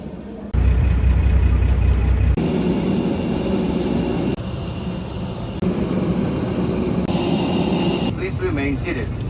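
Steady, loud engine roar inside the cabin of an AirAsia passenger airplane in flight, broken into several abruptly cut segments. Faint voices come through toward the end.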